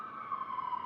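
An emergency vehicle siren wails steadily along a Seattle street, a sustained mid-pitched tone with gentle wavering, moderately loud over a low traffic hum, with no voices.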